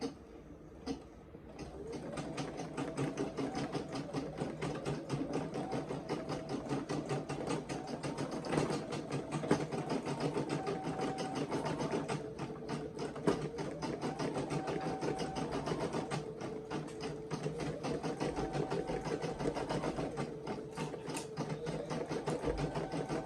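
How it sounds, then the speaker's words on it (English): A Brother SE1900 embroidery machine stitches a design onto a bucket hat, a fast steady mechanical chatter with rhythmic needle pulses and occasional shifts in pitch as the hoop moves, running continuously without speech. "I'm going to go ahead and I'm going to start embroidering."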